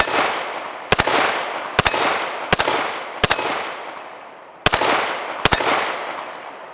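A Canik Mete SFX pistol fires seven loud, sharp shots at uneven intervals outdoors, each followed by a ringing clang from a distant steel plate target and a long, fading echo.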